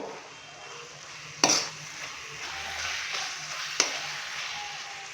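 Beef keema with ground black pepper being stirred in a karahi over a steady sizzle, with two sharp metallic scrapes or clinks of the spoon against the pan standing out from the frying noise.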